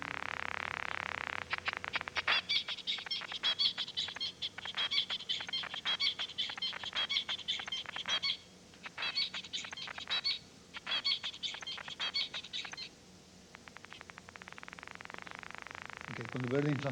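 Birdsong plays together with a recorded neuron's crackling spike train, bursts of rapid chirps and clicks that come and go over a steady hiss, with pauses where the singing stops.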